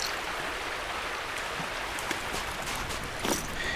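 Water pours steadily into a container while filling it in the survival video game The Last Plague: Blight, a continuous close splashing stream with a few brief clicks near the end.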